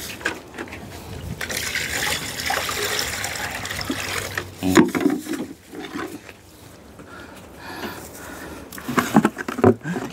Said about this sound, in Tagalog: Lagyan ko na lang ilagay itong tubig